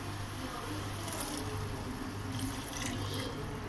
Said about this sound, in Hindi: अब इसमें 1 कप पानी जाएगा।